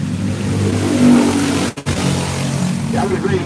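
Race cars at the Quincy Grand Prix run in single file, a steady, loud engine drone with a brief dip mid-way as one passes, then the roar resumes, under continuous commentary.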